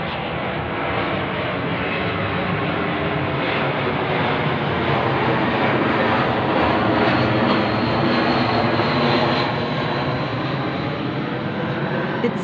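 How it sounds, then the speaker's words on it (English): An airplane passes overhead at a distance over a residential dead-end street, giving a loud, continuous engine drone that holds steady for the whole stretch with no talking. "another plane looming in the distance, coming straight across my line of sight"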